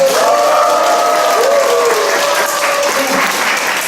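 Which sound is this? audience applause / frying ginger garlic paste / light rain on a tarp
audience applause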